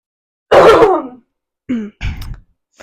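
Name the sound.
cough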